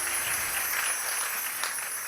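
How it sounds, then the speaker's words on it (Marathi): An audience at a Shrimad Bhagavat katha kirtan gathering claps together in dense, continuous applause that stays fairly loud and even throughout. "टाळी वाजवा मावशीसाठी"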